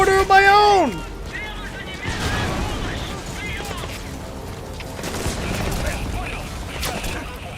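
Mortar fire in Metal Gear Solid V: The Phantom Pain, several thumping launches and distant impacts over steady battlefield rumble, after a brief rising synthetic tone at the start.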